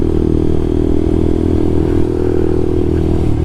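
A Lexmoto LXR 125 motorcycle engine drones continuously while riding, a loud, dense low rumble mixed with wind buffeting and rattle that stays steady throughout, with no voices.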